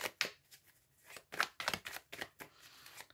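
Tarot cards shuffled for a reading, a quiet close series of crisp riffling and sliding bursts with short pauses between them.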